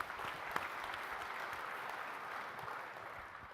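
Steady applause from an audience at a SharePoint and OneDrive technical session, a dense continuous patter of many hands, fairly faint and distant, with no voices over it.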